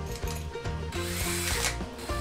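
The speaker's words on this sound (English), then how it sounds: "We drilled a pilot hole with a 1/4 inch drill bit" A power drill bores a pilot hole with a 1/4 inch bit through the hull of a salvaged boat for underwater LED lights, a loud close whine that shifts pitch in steps as it bites and eases off.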